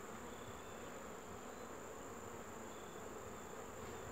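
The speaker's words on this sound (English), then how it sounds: "The busy bees." Honeybees drone in a continuous, steady buzz, faint and even throughout with no voices.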